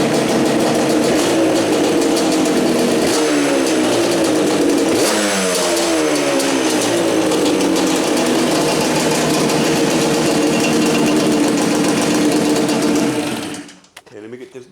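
A Yamaha Banshee two-stroke engine idles loudly up close, then revs in several rising and falling pulls before settling back to a raspy idle and cutting off abruptly near the end.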